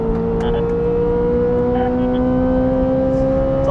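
Chevrolet Corvette Z06 engine droning steadily on a race track, a sustained loud tone holding through the whole stretch with faint background sounds.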